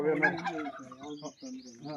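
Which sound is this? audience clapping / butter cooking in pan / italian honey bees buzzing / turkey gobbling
turkey gobbling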